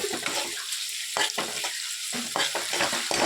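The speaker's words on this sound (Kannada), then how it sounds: "ಫ್ರೈ ಮಾಡಬೇಕು ಫ್ರೈ ಮಾಡಿಬಿಟ್ಟು ಮೆಣಸಿನ್ಕಾಯಿ ಒಂದು ಎರಡು ಮೂರು ಹಾಕಬೇಕು" Green chilies stir-fried in a pan sizzle steadily while a spatula scrapes and stirs in repeated strokes, close and clear with no talking.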